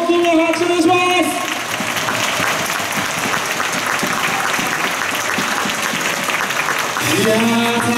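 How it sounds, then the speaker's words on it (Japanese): A large audience claps steadily for several seconds, a dense wash of applause that swells and holds, with music audible at the start and end. "どうぞ皆さん大きな拍手をします。"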